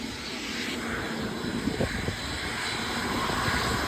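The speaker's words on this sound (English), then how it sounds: "Guys, there's a private jet." Engine noise from a passing private jet, a steady broadband roar that swells slightly and holds throughout, heard outdoors at some distance with faint crackles and background noise, no speech.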